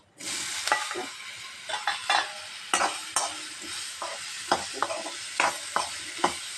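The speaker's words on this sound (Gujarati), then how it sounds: "આ રીતે પીસીસને થોડા તેલમાં જ ચડવા દઈશું" Small pieces of ridge gourd cook in a little oil in a pan, giving a steady soft sizzle close by. Intermittent scraping clicks of a spoon stirring the vegetables run through it, and no one speaks.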